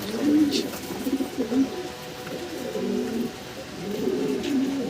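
Fancy pigeons, a black pair, coo in repeated low rolling phrases close by, with several soft bursts overlapping in a steady farmyard loft ambience.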